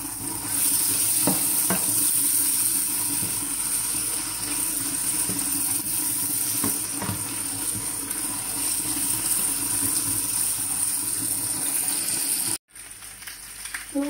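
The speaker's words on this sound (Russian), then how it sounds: "Картошка жарится." Loud, steady sizzling and crackling of potatoes and onions frying in a pan for the whole stretch, with occasional stirring scrapes and a brief break near the end.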